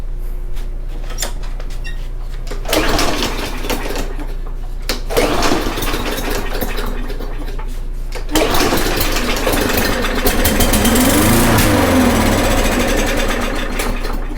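A Briggs and Stratton small engine with a plastic carburetor cranks and sputters in loud repeated bursts, catching briefly and then dying instead of running on.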